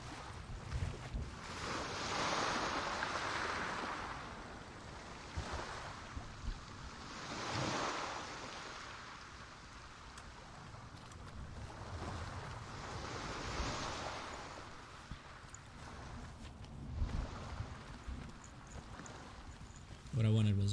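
Sea waves in Hellblade: Senua's Sacrifice roll in and wash out in slow surges of surf, with wind-like hiss between them and a voice talking over the water.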